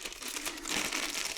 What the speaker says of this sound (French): Donc maintenant on va sortir les vis correspondantes.